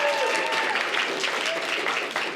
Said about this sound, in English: Please give a big round of applause to yourselves.